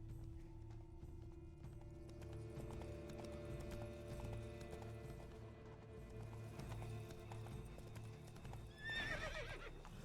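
Hoofbeats clip-clop steadily at a gallop while a horse neighs and whinnies in The Witcher 3, with a layer of game ambience and music underneath and a louder whinny near the end.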